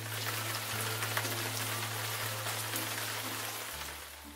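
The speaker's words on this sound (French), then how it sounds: "La pluie commença à tomber. Les gouttes se suivirent bientôt sans intervalle." Steady rain falls on a hard surface, a dense continuous patter throughout, with a low hum underneath and no voices, used as a sound effect in a French children's audiobook telling of a tin soldier.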